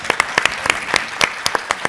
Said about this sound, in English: Yeah, let's stop for a minute. Let's cheer.